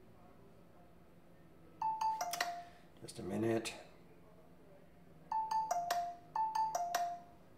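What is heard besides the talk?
phone sound alerts ringing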